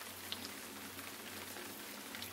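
Light rain falls steadily outdoors beside a road during a long-distance bicycle tour, a soft, even patter with scattered drop ticks, quiet and continuous with no voices.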